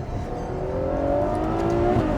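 The V12 engine and exhaust of a naturally aspirated Ferrari GTC4Lusso rev in a steady rising roar, loud and close, the pitch climbing smoothly as the car accelerates.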